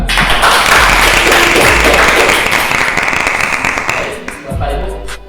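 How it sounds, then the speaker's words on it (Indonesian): Audience at a school training session bursting into loud applause, dense close clapping that holds steady and then tapers toward the end. "Kita kasih aplaus dulu untuk Ibu Eva"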